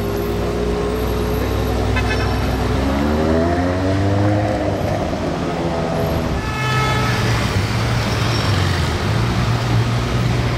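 A Ferrari with a GTO engine, a fabric roof and a red interior drives past at a Le Mans Ferrari rally. The loud, close engine note rises through the revs, then settles into a deep, steady drone with traffic around it.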